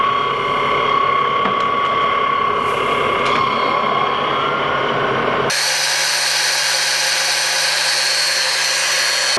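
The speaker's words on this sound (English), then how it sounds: "I got a center drill in there," A center drill cuts a center hole in a shop machine, making a steady, loud whine with a grinding texture. Partway through, it switches abruptly to a smoother, higher continuous tone with a low hum.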